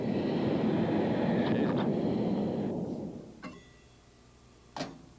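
A jet fighter pulls out of a steep dive with a loud, broad roar that holds steady for several seconds and then fades away, followed by two sharp clicks, the second one louder.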